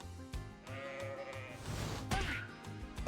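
Sheep bleats from a creature in the ecological time-travel RPG Maliki, a couple of short calls over looping game music and battle sound effects, moderately quiet.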